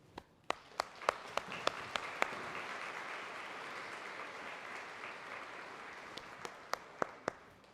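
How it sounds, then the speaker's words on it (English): An elementary school promotion audience claps for fifth-grade graduates, a soft, steady wash of applause with a few sharp, close individual claps standing out at the start and end. "You all should be proud of yourselves and deserve a round of applause."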